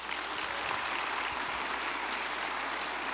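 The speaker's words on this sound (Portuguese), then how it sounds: "Dá um aplauso ao Senhor." A church congregation applauds during a Communion service, a steady, fairly faint wash of clapping heard from a distance that continues evenly throughout.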